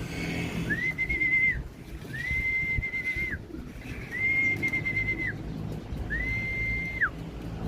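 Racing pigeons arrive at the loft during a summer truck training toss of about 50 km in San Pablo, Laguna: four rising, sustained whistling tones, likely wing whistles, repeat about every two seconds over a steady outdoor background.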